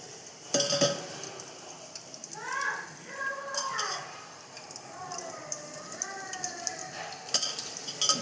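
Food fries lightly in oil in a pan with a faint, steady sizzle, punctuated by a few utensil scrapes and clinks, while a person talks over it.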